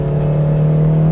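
A K24-swapped Honda Civic Si pulls hard through the mid revs, a loud, steady engine drone heard from inside the car with no talk.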